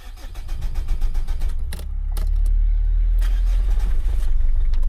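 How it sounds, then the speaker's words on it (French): A Renault Clio engine with one injector unplugged cranks and catches roughly, settling into an uneven, lumpy idle with broadband rumble, close and fairly loud, with a couple of sharp clicks partway through. "si je retire la prise de celui-ci et que j'essaye de démarrer, normalement ça devrait faire pareil, le même démarrage de merde"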